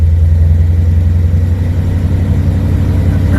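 Small block Chevy V8 with EFI idling while warming up, a loud, steady low rumble with an even, unbroken tone close by and no voices.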